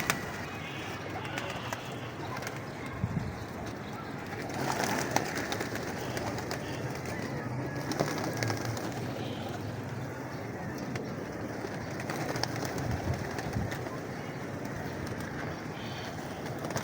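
Pigeons coo at a crowded bird market in Lahore, soft repeated cooing spread across a dense, busy background hum with scattered noises and no clear speech.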